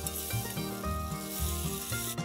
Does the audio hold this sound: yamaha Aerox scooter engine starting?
no